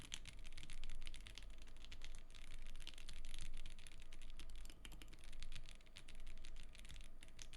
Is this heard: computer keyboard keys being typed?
yes